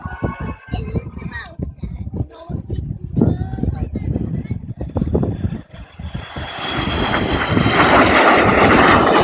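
The Avro Vulcan XH558 jet bomber at the 2014 Cosford Airshow, its engine roar swelling from distant to loud and broad over the last few seconds while an announcer talks over the opening.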